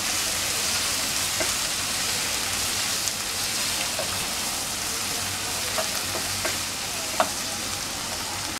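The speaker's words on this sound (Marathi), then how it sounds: "आता याच्यात मी टोमॅटो घालणार आहे" Tomatoes added to softened onion in a pan for Marathi-style tomato rice, frying with a steady broad sizzle and scattered crackles and pops, fairly close, no talking.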